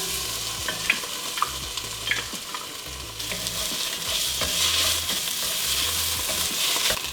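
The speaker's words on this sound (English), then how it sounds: "We're gonna cook the garlic for about a minute" Garlic sizzles in a pan for ossobuco, a constant close hiss of frying that swells louder midway, with a few light stirring knocks early on.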